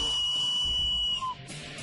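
A homemade wooden survival whistle carved from a plug with an air channel shaved along the top, blown in one long, steady, piercing tone that ends abruptly, heard close.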